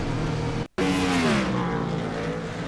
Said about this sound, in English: You hear that 67 car go by on the outside there and hit the wall.